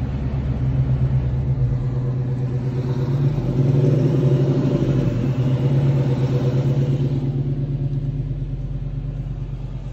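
A Dodge Scat Pack's V8 engine with a mid muffler delete idles and swells in a deep, throaty rumble, loud and close, rising briefly before settling back to a steady burble with no talking.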